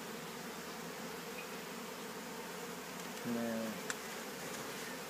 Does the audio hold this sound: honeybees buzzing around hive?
yes